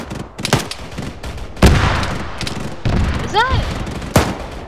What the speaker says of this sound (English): Some kind of auto cannon fire coming in on us.